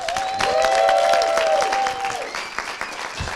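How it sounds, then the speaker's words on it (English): Audience applause fills an evening community gathering, a dense, steady clatter of many hands that gradually thins out toward the end. "will you go ahead and give these folks at home a huge round of applause?"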